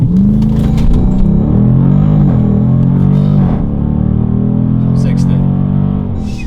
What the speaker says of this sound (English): So here is a quick launch. We're gonna do right here, 0 to 60, left foot on the brake. Launch mode is now active.